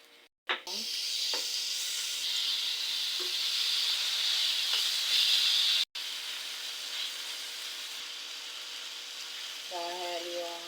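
Garlic sizzles steadily in hot cooking oil for a beef and onion stir fry, a loud continuous frying hiss after a brief clatter, with a voice speaking briefly near the end.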